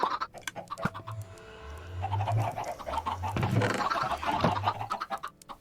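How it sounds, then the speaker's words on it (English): Chickens cluck and scratch in the video game Magicka: a busy flock of clucks and squawks sits over game noise at moderate loudness. "There's a lot of chickens in there now."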